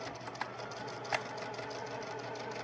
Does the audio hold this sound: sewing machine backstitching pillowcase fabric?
yes